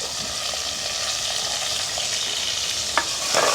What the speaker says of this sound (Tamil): இந்த வெங்காயம் பச்சை மிளகாய் உள்ளி எல்லாம் நல்லா வதங்க வரும்